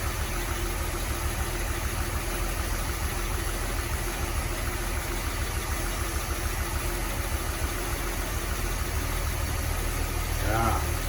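A flathead Mopar engine, newly installed and being timed, idles steadily with an even mid-low mechanical drone that holds at a constant level throughout, with a brief extra rattle near the end.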